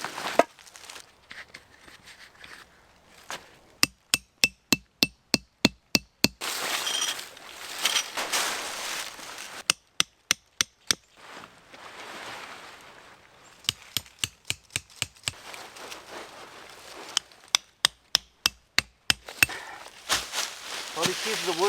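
Tent stakes hammered into hard, resistant ground at a rainy lakeside campsite: quick bursts of six to ten sharp, close strikes separated by pauses filled with rustling and soft background noise.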